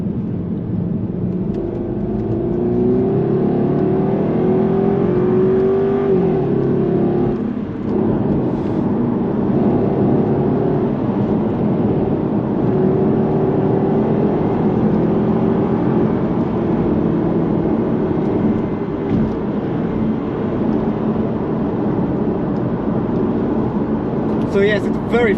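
A Jaguar XK 4.2 (X150) accelerates on an open road, heard from inside the cabin as a steady, loud low engine rumble with gently rising tones.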